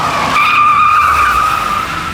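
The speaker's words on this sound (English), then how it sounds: "And then we also did a 60 to 0 braking test." A BMW's tires squeal sharply under hard braking from 60 mph to a stop, one loud, steady, high screech lasting about two seconds before easing off, with no talking.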